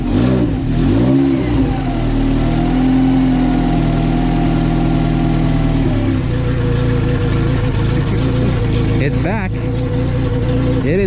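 Honda Civic wagon engine running after start-up, a loud, close rumbling idle with revs rising and settling, a pitch drop around six seconds as the throttle eases, then steady idling.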